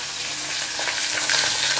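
Pieces of katla fish fry in a little oil, giving a close, even sizzle with light crackling pops that grows slightly louder toward the end.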